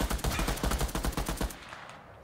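Rapid automatic gunfire from a video game, loud, dense bursts of shots for about a second and a half before fading into a quieter tail, with no talking over it.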